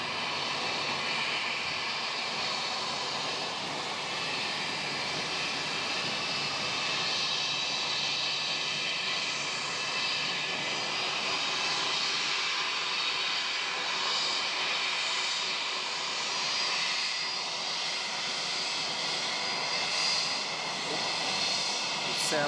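A fixed-wing airplane landing at Wellington Airport and rolling long down the runway to the far taxiway, a steady engine roar that holds for the whole stretch with faint talk underneath.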